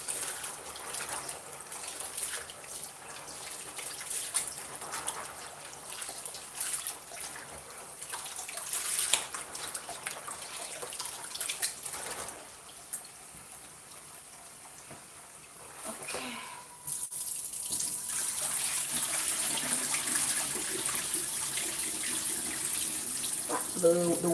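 A kitchen tap runs while beans for moi moi are washed in a UK kitchen, a continuous gushing splash of water that briefly drops away before returning at full flow.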